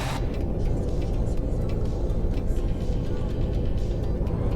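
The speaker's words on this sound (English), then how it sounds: "That is a tanker truck." A tanker truck's engine in a bus-driving video game rumbles steadily close by, a heavy, continuous low drone filling the whole stretch with no voices.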